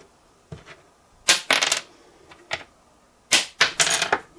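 A bone guitar nut dropped onto a hard surface, clattering in several bright, sharp bursts of quick rattling bounces, close up and with no other sound around it.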